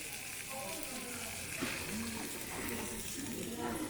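Sirloin and tenderloin steak sizzling and crackling in a hot pan, a steady close-up hiss with a voice speaking faintly underneath.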